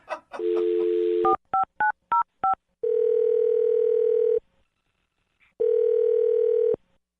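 Telephone keypad tones from dialing a number, a short burst of touch-tone beeps after a brief tone, followed by two long, steady ringback buzzes separated by silence, clean and fairly loud.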